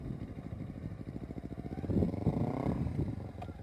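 A motorcycle putters at low speed while leaning into a slow practice turn, its engine giving a close, throbbing rumble that swells slightly midway.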